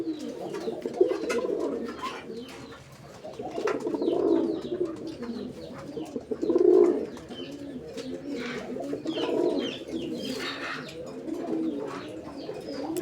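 Pigeons at a pigeon fair coo repeatedly, their deep throaty calls overlapping in soft rolling phrases. Several birds sound close by, with light rustling in between.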